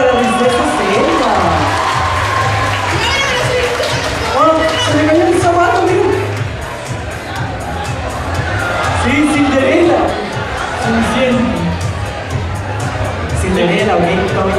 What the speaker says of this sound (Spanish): aplauso, por favor, para la princesa Selma.